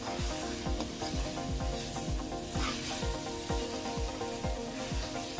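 Arvi and chicken fry in a pan, a steady sizzle under rhythmic scraping strokes of a spoon stirring the pieces, close and moderately quiet.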